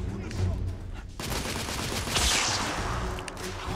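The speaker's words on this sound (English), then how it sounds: "Press R2 to fire rounds." Gunfire in The Order: 1886: sustained bursts of rifle and machine-gun fire with battle noise, loud and continuous, under bits of game voices.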